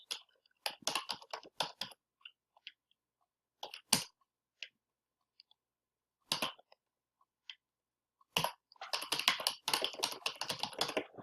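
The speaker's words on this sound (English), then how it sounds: "And then I'm just going to go ahead and start typing." Quick bursts of clacking keystrokes on a computer keyboard, separated by short pauses, close and fairly quiet.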